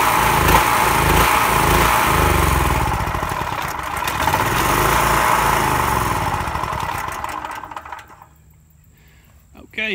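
A portable generator engine runs loudly and steadily, then falters and nearly stalls with the choke in use, dropping away and briefly picking back up.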